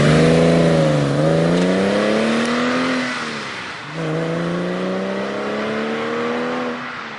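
A 2002–2003 Porsche 996 Carrera with factory tips and Fabspeed Maxflo mufflers revs loudly and close. Its deep, throaty exhaust note climbs twice, drops off between the rises and fades back at the end.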